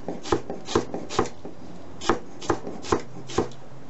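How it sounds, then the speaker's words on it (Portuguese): A knife finely chopping fresh chives on a board, about ten sharp near thuds in an uneven rhythm, each with a brief clack, with no voices. "e agora a gente vai picar essa cebolinha, tá? Bem fino."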